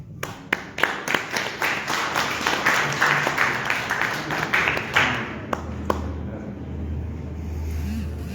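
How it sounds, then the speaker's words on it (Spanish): Audience at a book presentation in Arequipa applauds with dense, lively clapping for about six seconds, with sharp individual claps standing out near the listener before it thins and fades into room noise. "Vamos por esas palmas"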